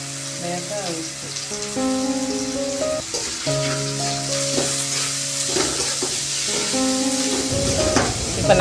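Tomatoes sautéing with a sprinkle of salt in a pan while samai millet kichadi is being made: a steady, close sizzle with stirring scrapes, under sustained tonal background music.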